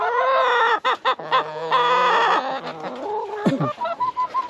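Chickens cluck and squawk up close on a permaculture farm in Central Oregon, a busy burst of loud clucking that tapers into softer, choppy calls.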